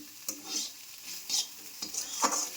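Egg and potato bhujia fries in a pan with soft sizzling and a few scraping stirs, faint and close, without speech.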